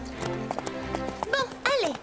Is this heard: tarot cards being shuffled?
no